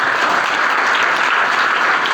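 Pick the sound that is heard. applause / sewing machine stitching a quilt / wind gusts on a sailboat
applause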